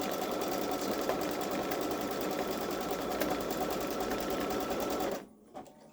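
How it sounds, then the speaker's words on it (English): A Baby Lock Solaris embroidery machine runs a steady, loud whirring stitch while the thread catches, then abruptly stops near the end, leaving a brief quiet click. "Sounds like it's shredding or something's getting caught."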